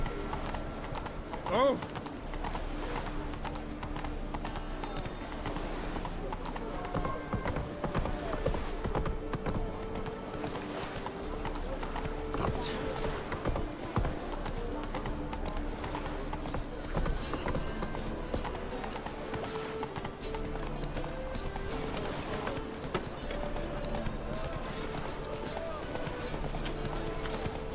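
Hooves of Roach the horse clip-clopping in The Witcher game, a continuous rhythmic trot mixed with game music and someone talking over it.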